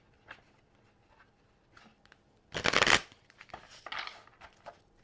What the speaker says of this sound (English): I'm going to shuffle these one time.